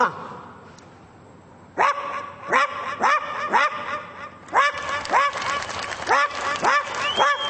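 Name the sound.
voice imitating a dog barking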